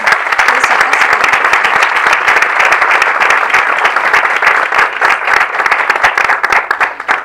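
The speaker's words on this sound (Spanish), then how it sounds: "Un aplauso." Audience applause at an educational coexistence seminar panel, dense steady clapping from a room full of people throughout, loud and close with no voices over it.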